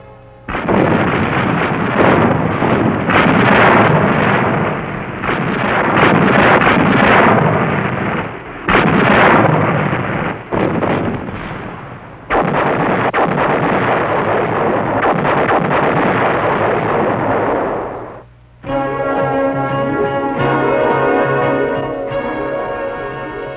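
Naval gunfire support for an amphibious landing: loud, booming blasts and rolling rumbles from ship guns in a sustained barrage, with brief pauses between salvos, heard alone without speech.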